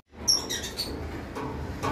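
A pair of caged lovebirds gives several bright, short chirps and tweets early on, then softer scattered calls over a low background rustle, close and fairly quiet.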